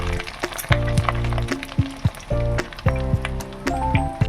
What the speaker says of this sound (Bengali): কম আঁচ করে অল্প অল্প করে ভাজতে হবে